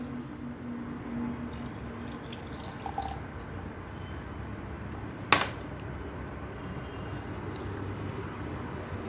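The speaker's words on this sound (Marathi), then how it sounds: "आता ह्याच्यामध्ये मी ॲड करते आपण हे जे कॉफीचं मिश्रण केलं होतं" Chilled coffee mixture pours faintly into a glass for iced sweet creamy coffee, a quiet trickling with a few soft drips and one brief clink partway through.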